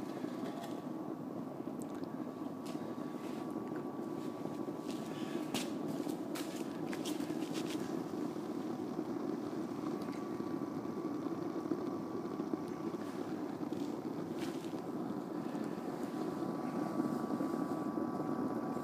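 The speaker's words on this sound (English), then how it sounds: "I stuck a little computer fan on the pipe here" A small 12 volt computer fan running on a rocket stove pipe, a faint steady whir with a thin tonal hum and occasional light clicks and knocks, no voices.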